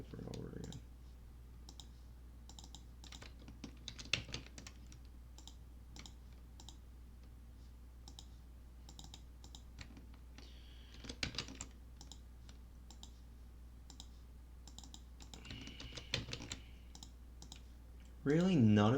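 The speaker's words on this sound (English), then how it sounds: "Why am I typing it out again over and over again?" Rapid clicking keystrokes on a computer keyboard come in scattered bursts and pauses, close and quiet, with someone occasionally talking over the typing.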